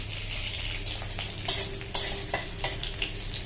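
Dal being tempered in hot oil in a home kitchen crackles and sizzles steadily, with a couple of sharp spits and stirring clatters standing out up close and no voice over it.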